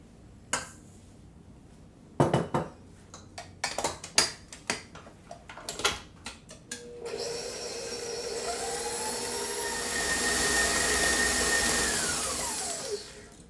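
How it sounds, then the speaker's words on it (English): Softened butter and sugar clatter in a bowl for gluten-free snickerdoodle cookies, then an electric mixer starts and whirs with a steady rising whine before winding down near the end. "we want to start by creaming our butter"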